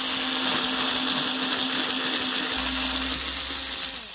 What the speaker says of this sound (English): So first I'm gonna drill the holes.